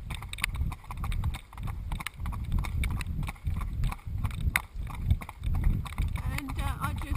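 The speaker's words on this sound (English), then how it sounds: "Apparently Nini's got a really lovely trot" Rhythmic clip-clop of a horse's hooves at a trot while out riding, steady and fairly close, with a person talking over the hoofbeats.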